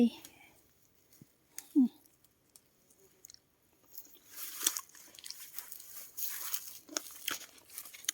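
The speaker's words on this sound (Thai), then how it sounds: "มาแวะชิมผลไม้" Someone bites into and chews fresh passion fruit outdoors, with a few close, wet crunches and tearing bites followed by softer chewing, and people talking nearby.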